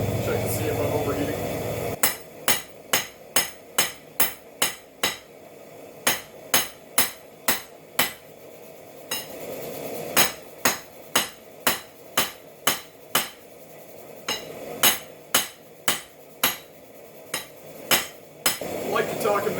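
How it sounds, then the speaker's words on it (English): Blows of a hammer on hot metal at a forge ring out in sharp, clanging strikes, loud and close, coming in quick bursts of several hits with short pauses between. "I'm gonna try hammering on it again."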